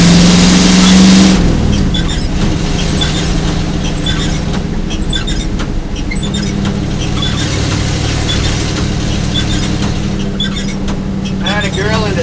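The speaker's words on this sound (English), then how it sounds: "you just have to listen to that nice 318 cubic inch V8 engine" A 318 cubic inch V8 car engine runs loud and close for about twelve seconds. It is steady and throaty, with squealing and rev-like swells. There is no talk over it.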